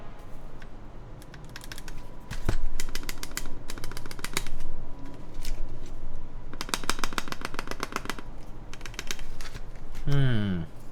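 Rapid clicky typing on a mechanical keyboard comes in bursts of close, crisp keystrokes with brief pauses, ending in a low thumpy rattle like a loose spacebar.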